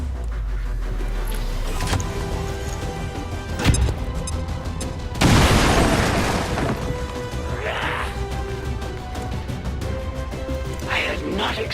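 A grenade bursts in XCOM 2: War of the Chosen with a loud crashing blast and a scattering debris tail, preceded by a sharper thud, set against a steady game music bed with voices speaking.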